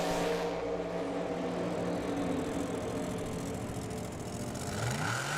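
Drag racing cars at Firebird Raceway launch off the line, a dense sustained engine roar heard from a distance, rising tones sweeping upward near the end, with no voices.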